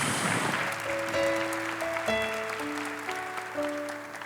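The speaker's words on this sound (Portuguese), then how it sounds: "Aplaudamos a palavra de Deus." A church congregation breaks into sustained applause during a Catholic Mass, a broad wash of clapping with sustained musical tones running through it.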